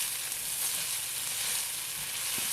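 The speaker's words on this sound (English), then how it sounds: "Really stir it around." Mushroom gravy of chanterelle, porcini and amanita mushrooms sizzling and being stirred in a pan, a steady, dense hiss of frying heard close and continuous without talking.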